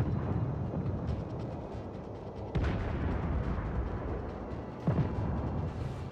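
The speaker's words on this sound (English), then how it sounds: "A lot of gunfire going on." Naval gunfire exchange in World of Warships, a continuous rumbling barrage of booming shots with a few sharper blasts cutting through, heavy and close, with no talking.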